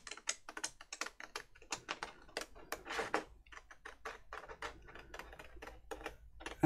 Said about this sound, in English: So I'm going to cut round here quite carefully.